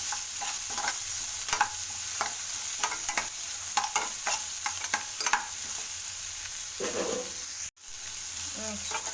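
Green chillies and tomato sauté in a pan for avalakki uppittu, with repeated spatula scrapes and stirs over a constant sizzle and a brief sharp break near the end.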